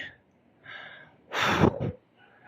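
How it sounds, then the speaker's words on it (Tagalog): A man breathes hard and heavily after hauling bamboo poles, with a few loud, rough gasping breaths close to the microphone and quiet pauses between them. "Hinihingal ako ngayon"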